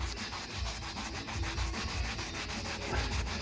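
An abrasive pad rubs stripped paint off a wood surface, worked back and forth along the grain in steady, close, rhythmic strokes with no talking.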